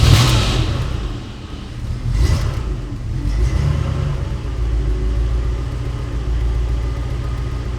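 A classic car's 7.5-litre V8 engine revs loudly and close by, with a deep, steady rumble that surges in a few swells and keeps droning throughout, no voices over it.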